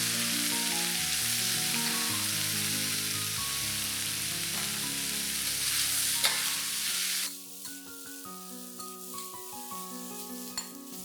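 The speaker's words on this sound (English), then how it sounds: "add in your broccoli and stir fry them for about a minute or two" Broccoli florets stir-fried in Sichuan pepper and chili oil hiss in a loud, steady sizzle that drops sharply partway through, followed by quieter crackling and scraping stirs.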